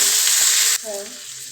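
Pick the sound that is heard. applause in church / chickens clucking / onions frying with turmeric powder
onions frying with turmeric powder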